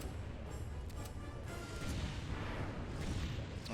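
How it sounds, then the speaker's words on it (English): In the PS2 game Monster Attack, a large explosion blast rolls out as a sustained, fairly quiet roaring rumble with a few faint crackles through it. "Look at that blast."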